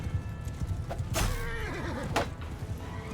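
Horses neigh in a Mount & Blade II Bannerlord battle, a loud wavering whinny rising over a background of hoof clip-clop and battle noise, followed by a shorter second neigh.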